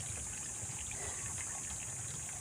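Water trickles and flows steadily into a rice field past a broken barrier, a soft, continuous wash heard at low level with no talk.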